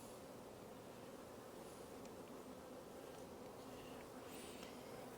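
Honey bees swarm over an opened hive during an inspection, their buzzing forming a faint, dense, unbroken drone, with a few individual bees whining past close by.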